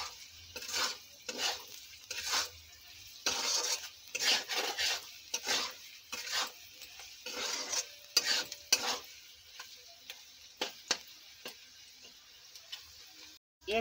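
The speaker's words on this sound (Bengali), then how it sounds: "লবণ দিলাম, অল্প একটু হলুদ গুঁড়ো দিলাম, লঙ্কা গুঁড়ো দিলাম, দিয়ে এইভাবে নেড়ে নেব" Fried food stirred in a pan with salt, turmeric and chili powder, repeated metal spoon scrapes and clinks at an irregular rhythm over a faint sizzle, no voices.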